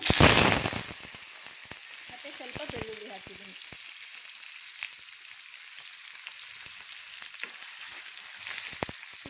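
Chopped tomato and onion fry in about four spoons of oil in a pan, opening with a loud clatter and splash as they go in, then settling into a soft, steady sizzle with occasional stirring sounds and a brief voice early on.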